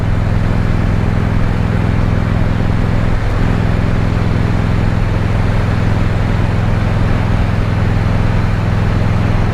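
A Harley-Davidson Road King motorcycle cruises along a quiet road, its steady low engine drone and wind rumble continuous and loud throughout, with no talking.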